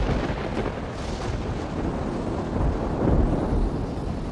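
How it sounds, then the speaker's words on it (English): A winter storm at sea, a dense continuous roar of wind, waves and rain with low rumbling swells building toward the end, no voices. "As winter intensifies, more storms blow in from the south."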